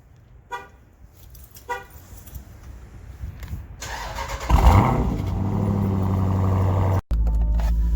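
A car engine turns over and fires up, settling into a loud, steady idle after a few faint clicks and thumps beforehand.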